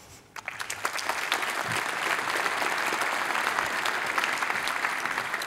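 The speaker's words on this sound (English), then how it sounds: "Warm applause" Warm applause from a conference audience at an AI policy event begins abruptly and holds as a steady, full wash of clapping for several seconds.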